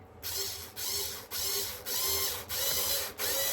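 A power driver sets screws into a slightly warped board for a model railway layout. It gives a loud, rapid ratcheting whir in repeated bursts of about half a second, separated by brief pauses, with no speech.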